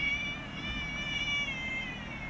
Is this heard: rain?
no